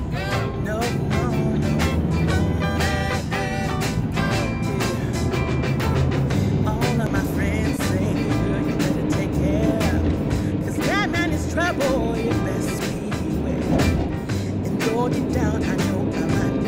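A camper van cruises along a Norwegian road, a continuous engine drone and tire roar filling the cabin with music or voices layered over it at steady volume.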